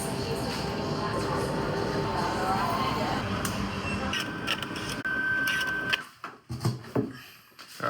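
A printer running through a print job, a steady mechanical whir and chatter that fills most of the clip before stopping near the end, leaving a few short knocks and rustles.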